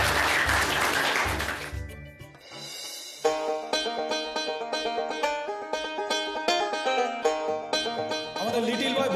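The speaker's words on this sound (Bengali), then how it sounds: "এই স্পিরিটটার জন্য একটা জোরে হাততালি" Audience applause in a studio competition show, a short burst of clapping at the start that gives way to loud music.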